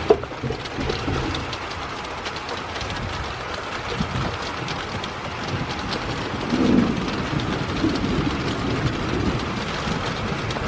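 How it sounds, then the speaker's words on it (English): Moderate rain falls in a steady, dense hiss, with a low rumble of thunder running beneath it and a slight swell partway through. "Getting some moderate rain right now."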